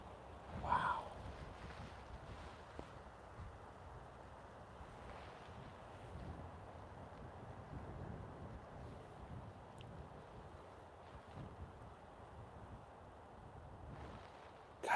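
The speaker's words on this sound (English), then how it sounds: "this wind is getting bad" Strong wind sweeps through deer woods in a steady, low roaring rush with occasional buffeting against the microphone and a brief louder gust near the start, with no speech.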